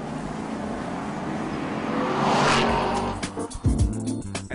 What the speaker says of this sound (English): This V8 sounds absolutely delicious at full clip.